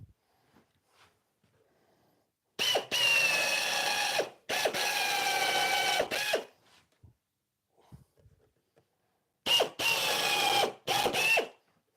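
A power driver sinks screws into the end of a pallet wood cabinet joint in two separate whirring bursts, each lasting a couple of seconds, with quiet gaps between them.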